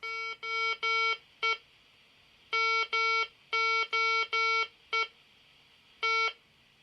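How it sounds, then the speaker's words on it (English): An electronic ESP-based beacon beeps in clean, sharp tones, clustered in irregular runs of two to four beeps with gaps, close and clear against a quiet background. "I'm gonna leave it there beeping. So that's the first beacon."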